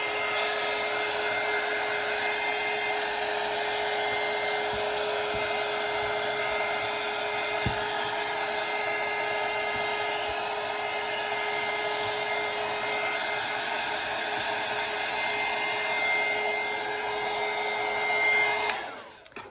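A dryer blows steadily to dry freshly painted Christmas ornaments, a constant loud whooshing hum with a whining tone that holds for the whole stretch and cuts off at the end.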